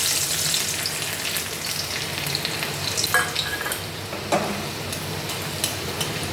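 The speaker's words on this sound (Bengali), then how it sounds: "রসুন ফোড়ন দিলাম।" Garlic sizzling in hot oil as a tempering for a leafy greens dish with dried red chilli, a steady close crackling fry with a few light stirring clicks.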